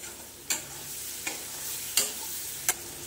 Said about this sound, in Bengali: দিয়ে দেবো হলুদ, এই দিয়ে ভালো করে কষে নেব।